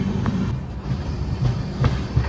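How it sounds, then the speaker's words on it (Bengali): A Kolkata–Sairang Express passenger train rolls steadily on its rails as it nears Kishanganj station, heard from inside the coach. A continuous low rumble carries a few soft wheel clacks over the rail joints, with no talk. "আমাদের ট্রেন ঢুকলো কিষানগঞ্জ"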